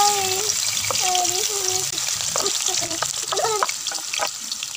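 Chopped onions sizzling and frying in hot ghee for a stuffed karela dish, a steady loud hiss throughout with a voice speaking over it.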